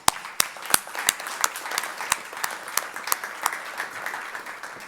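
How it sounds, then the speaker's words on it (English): Applause from a crowd at a high school FFA awards banquet, a steady wash of clapping with sharp individual claps standing out, continuing throughout at moderate level with no talk. "I want to give one more round of applause for my seniors and their parents"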